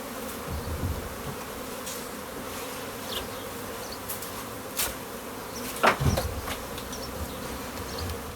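Africanized honeybees buzz steadily around a small wooden hive box, a continuous close insect drone with occasional louder passes and a few faint knocks, no speech.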